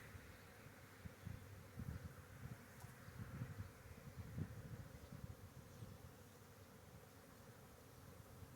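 Honey bees buzz in a dense, continuous hum, close by, with small swells and dips in the drone as insects move around; no one speaks.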